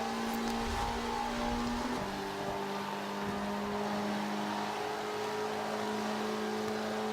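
Car engine in Forza Motorsport 5, a C Class build, droning steadily under load with a pitch drop at a gear shift, loud and continuous with no talk.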